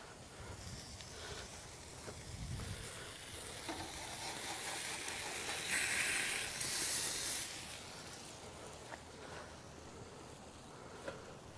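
Asparagus spears wrapped and cooking on a grill sizzle steadily in a broad hiss, swelling briefly louder midway, with no talk over it.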